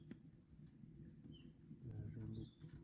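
Birds call faintly in a spring forest at a campsite, with soft cooing and scattered chirps heard from a distance over low background rumble, no talking.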